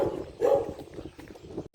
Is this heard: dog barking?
yes